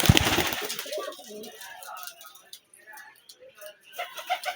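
Rajshahi Giribaz pigeon chicks coo softly and repeatedly at close range, low and faint, with a person talking over them.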